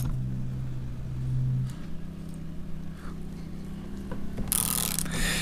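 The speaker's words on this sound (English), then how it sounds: "We're going to start driving the cups out." A two-jaw puller is tightened on a U-joint to drive out the bearing cups, making steady mechanical creaks and clicks over a low hum. A few sharper ticks come through, and no one speaks.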